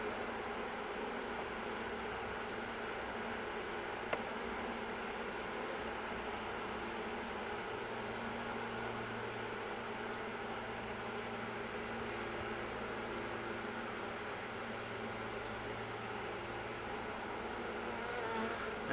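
Honeybees from a swarm-hive split drone in a steady, dense buzz with the hive open, a close continuous hum that holds evenly throughout with no talking.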